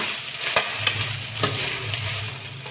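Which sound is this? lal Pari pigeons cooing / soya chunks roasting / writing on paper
soya chunks roasting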